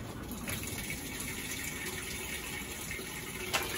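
Water gushes steadily into a Whirlpool washing machine drum on a regular small-load fill cycle, a constant rushing flow close by with no voices.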